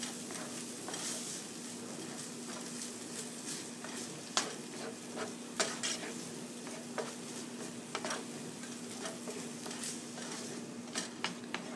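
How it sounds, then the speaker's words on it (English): Taco meat with salsa and dry spices is stirred in a pan, a utensil scraping in irregular strokes with sharp clicks against the metal over a low simmering sizzle and a steady background hum. "I'm going to stir all of that together."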